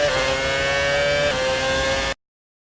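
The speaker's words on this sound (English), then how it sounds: "let's just listen to that engine noise" Engine of a classic car in the F1 2018 racing game, revving at a steady high pitch for about two seconds with a slight drop midway, then cutting off abruptly into silence.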